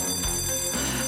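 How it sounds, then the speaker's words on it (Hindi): A bell rings out, probably a school bell, sounding as a dense, continuous metallic ringing that fills the full second and carries steady high overtones. "घंटी बज गई।"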